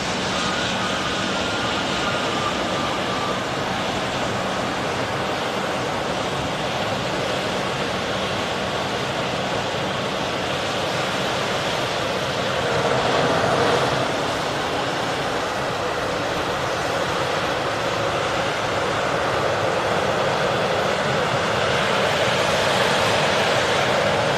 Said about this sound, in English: There's the Eastern, just all touching down.